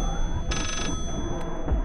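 Old-fashioned telephone bell ringing in the horror video game Layers of Fear VR: one bright, rattling ring burst lasting under half a second, then fainter hints of more ringing over a continuous low background drone.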